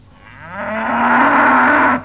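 Cocolota the cow gives one long, loud, close moo that rises and holds steady before cutting off sharply.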